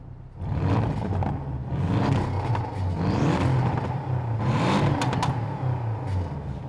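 A Porsche 718 GTS with a 2.5-litre engine burbling while stationary in neutral, a loud, close, rumbling idle with blips of revving and crackle.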